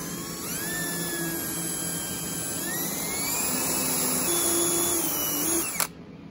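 A power drill with a brad point bit bores a hole during an acoustic guitar neck attachment, giving a steady, close, high motor whine whose pitch rises slightly partway through before it cuts off abruptly.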